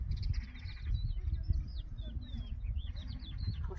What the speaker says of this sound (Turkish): Bak kuşlarımız geldi gördün mü? Ne güzel oynuyorlar.